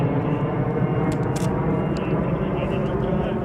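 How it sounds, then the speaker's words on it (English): A fixed-wing airplane roars overhead outside a gated facility, a loud steady broadband engine drone filling the whole stretch, with a few brief higher clicks and rustles near the microphone. "we'll wait for that plane to pass"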